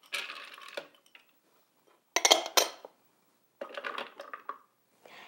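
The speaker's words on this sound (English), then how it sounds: "So we'll go ahead and add the almonds, sunflower seeds, and walnuts to the food processor." Almonds, sunflower seeds and walnuts tumble into a food processor bowl in three separate bursts of clattering, rattling hard bits, close and fairly quiet, with short pauses between pours.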